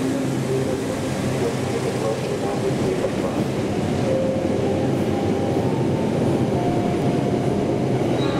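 A Taksaka passenger train passes through Matraman station as a continuous loud rumble and rolling roar of railcars, steady throughout and heard close.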